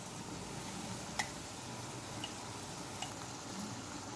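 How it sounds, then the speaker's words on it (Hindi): Cashew paste frying in a pan for Patiala chicken, a steady close sizzle with a few faint ticks and clicks scattered through it. "अब ये काजू का पेस्ट डाल रही हूँ मैं"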